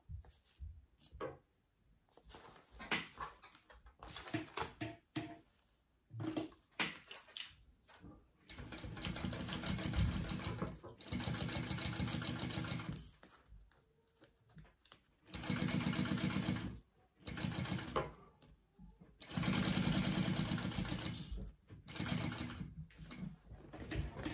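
A home sewing machine sews a zipper seam in several bursts of steady whirring, each run separated by pauses and handling clicks, moderately loud and close.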